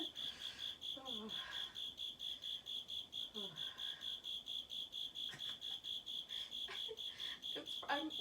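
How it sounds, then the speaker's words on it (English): A single cricket chirps in a steady, rapid pulsing rhythm through a quiet indoor yoga session, faint and continuous, with a few soft rustles and movements in the background. "I'm laughing and laughing about this cricket"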